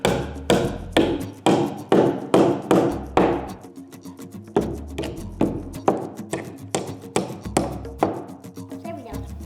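Repeated sharp hammer blows driving nails into wood in quick bursts, strikes coming in rhythmic runs with short pauses between, close and loud.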